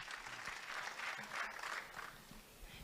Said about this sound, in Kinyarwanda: Tukomere Imana amashyi yeme.